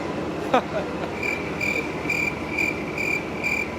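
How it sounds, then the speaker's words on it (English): Crickets chirp in Kandy, Sri Lanka, a steady series of bright, evenly pulsed trills repeating about twice a second throughout, with a faint background hum and a brief chirp-like sweep early on. "Dang, there's a lot of crickets here in Kandy."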